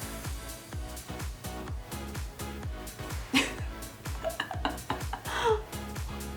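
A metal spoon clinks and scrapes in a steady repeated rhythm as makeup product is spread with it, close and crisp, with a voice speaking briefly over the later strokes.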